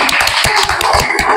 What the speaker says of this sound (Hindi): आइए बेटा, जोरदार तालियां इनके लिए।